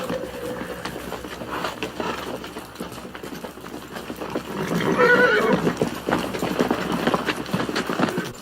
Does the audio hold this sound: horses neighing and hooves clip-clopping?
yes